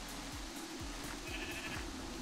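A sheep in Minecraft bleats, the cry carried on a quiet, steady bed of rain noise, with short low thumps recurring about every half second.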